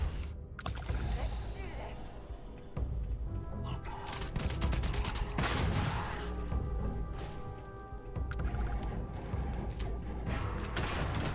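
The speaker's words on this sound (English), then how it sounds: "Keep chucking grenades at me, man" Rapid gunfire and thudding grenade blasts from combat in the game Starfield, a dense, continuous barrage with sharp bursts piling up over loud rumbling impacts.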